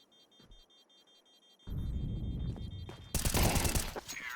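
Counter-Strike 2 gunfire in a competitive match: after a quiet stretch, a burst of shots erupts and then a louder rattle of fire, with dense crackling bursts dominating the last second and a half.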